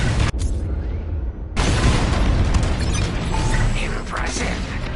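Bomb explosions in the space combat game Star Wars Squadrons boom as a heavy, sustained rumbling blast that swells after a brief dip and keeps rolling loudly to the end.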